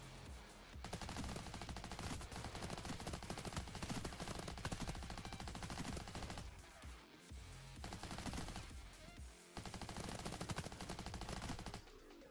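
Sustained light machine gun fire in the heist shooter Payday 3, dense rapid bursts running almost nonstop with two brief pauses, loud and close, with no talking.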